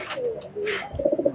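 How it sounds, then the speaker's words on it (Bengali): A pair of red-checkered golden pigeons coo softly nearby, a couple of low rolling coos followed by a quicker burst of pulsing calls. "এক জোড়া গোল্ডেন কবুতর ভাই"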